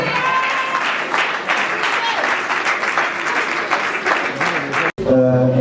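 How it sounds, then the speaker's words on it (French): A crowd at an awards ceremony in a hotel claps loudly and steadily for an artist, with some voices mixed in. The applause cuts off abruptly near the end and gives way to a tonal, musical sound. "Est-ce qu'on peut applaudir bien fort pour l'artiste?"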